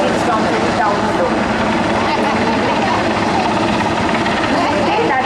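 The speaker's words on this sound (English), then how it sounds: "Attached themselves to the helicopter, which will then fly away with the commandos literally hanging from it down below." Helicopter flying low during a 2016 Navy Day rehearsal with commandos hanging beneath it, a loud steady rotor roar filling the whole span with no letup.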